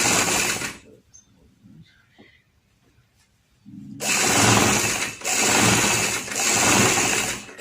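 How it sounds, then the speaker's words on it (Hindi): A sewing machine stitches around a shirt neckline in two loud, close bursts of rapid whirring, the second longer and broken by brief pauses, with quiet handling noises in the gap between them. "पूरे नेक की सिलाई लगा देनी है।"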